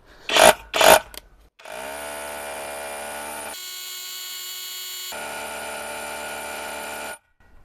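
A Procraft PHA30 cordless rotary hammer with a 26 mm bit works on concrete, giving a steady, close, high-pitched motor whine. Its pitch shifts partway through, and it runs for about five seconds before stopping abruptly.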